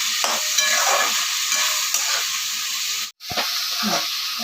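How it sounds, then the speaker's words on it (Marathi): Finely chopped tomatoes sauté in a pan for chicken sukka with a loud, steady sizzle and hiss. Stirring scrapes run through it, with one brief break in the sound partway through. "टोमॅटो मी बारीक टाकून घेतलेलं त्याला पण चांगलं शिजेपर्यंत परतून घ्यायचं"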